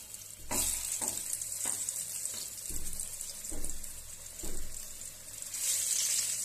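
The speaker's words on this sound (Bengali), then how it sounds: "গ্যাসটা জোরে দিয়ে একটু ভালো করে লাল করে ভেজে নেবেন।" Chicken fries in a pan over high heat for a chicken porota recipe, a steady close sizzle with periodic stirring or turning thumps and a brief watery hiss, no talking.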